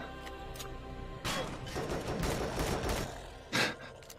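Shotgun blasts in the space survival game Empyrion Galactic Survival, a burst of loud overlapping gunfire and crashing impacts lasting a couple of seconds, then one more sharp shot, with no talk over it.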